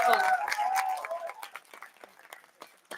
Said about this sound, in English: May we please have a huge round of applause for Akash.